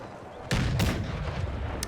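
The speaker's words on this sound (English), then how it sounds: "I'm going to order the cannons to fire far away so we don't shoot into our own troops there." Cannons in the Empire: Total War video game boom in two heavy blasts close together, followed by a rumbling tail and a faint distant crack.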